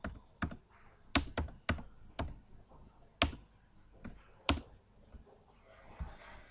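Someone types on a computer keyboard while entering records into an MS Access database, giving sharp, separate keystrokes in an uneven rhythm, close and fairly quiet, with no talking.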